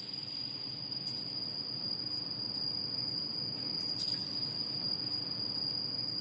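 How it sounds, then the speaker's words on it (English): Crickets chirp steadily inside the hollow concrete foundation of a large bridge tower in Greece, a continuous high trill held over a low, constant rumble with no voices. "It is surprising that crickets are hiding down here"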